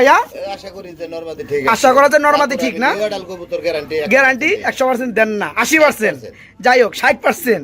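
Pigeons at a pigeon farm keep up near, overlapping throaty cooing in repeated bursts, loud and dense throughout, with someone talking over them.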